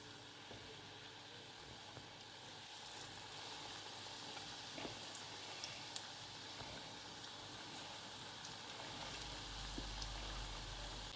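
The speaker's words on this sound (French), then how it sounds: "Et donc, voilà, nos beignets sont en train de frire." Banana fritters (talé-talé) shaped with a soup spoon from sweet banana batter fry in hot oil, giving a steady, even sizzle and crackle that holds throughout with a few faint pops.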